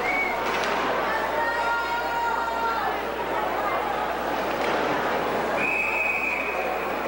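Referee's whistle at a high school ice hockey game, a sustained high tone near the start and another toward the end, over steady arena crowd chatter and rink noise.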